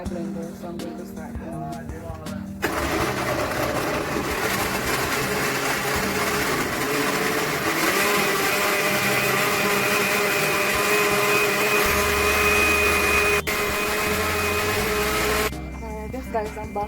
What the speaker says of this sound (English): I'm going to add everything to my blender